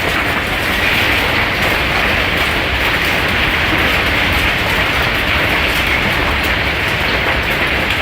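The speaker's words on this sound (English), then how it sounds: "This hailstorm in Texas was so intense that the hail started coming inside the home." An intense Texas hailstorm, hail pelting a home hard enough to come inside: a dense, unbroken roar of impacts, loud and steady throughout with no pauses.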